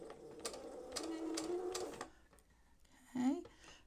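A sewing machine stitches mini piping onto quilt binding in a short, quiet run of rapid whirring with rhythmic clicks, then stops, followed by a faint cooing sound.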